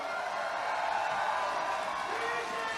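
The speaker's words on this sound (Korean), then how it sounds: "큰 박수 부탁드립니다" Audience at an outdoor political rally in Busan applauding and cheering in a steady, dense wash of clapping and crowd noise, moderately distant and continuous throughout.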